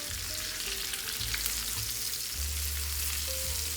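Ossobuco cross-cut veal shanks sear in a hot pan, giving a steady, even sizzle and crackle of browning meat with a low hum beneath, alone and unbroken, with no one talking.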